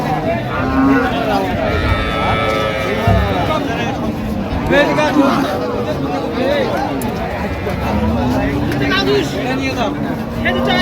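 Cattle low and moo repeatedly at Raniganj livestock market where cows with calves are sold, the calls rising over a steady din of crowd chatter and bargaining voices close by.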